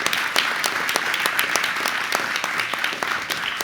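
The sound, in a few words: audience applause at alumni awards event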